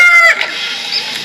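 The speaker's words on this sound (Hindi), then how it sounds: "मुर्गा को हम इंग्लिश में कॉक कहते हैं।" A rooster crows loudly and close, a strained cock-a-doodle-doo call lasting about a second on its own, ending in a high tapering note.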